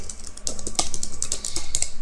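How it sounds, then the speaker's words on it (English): Rapid keystrokes clatter on a computer keyboard while entering a web address, a quick burst of close, crisp taps with no voices. "I'm typing like google.com here"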